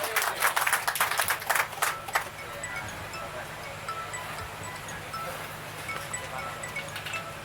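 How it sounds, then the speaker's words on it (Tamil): An audience at an event in Coimbatore gives a brisk burst of clapping to welcome a speaker to the stage. It lasts about two seconds, then dies away into quiet room murmur. "நல்ல ஒரு உற்சாகமான கைத்தட்டலோடு மேடைக்கு அன்போடு அழைக்கிறேன்"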